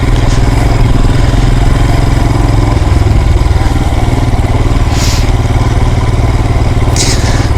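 A Royal Enfield Himalayan motorcycle rides along a green lane, its single-cylinder engine thumping loud and close in a steady rhythm with constant mechanical clatter and occasional brief wind or splash bursts.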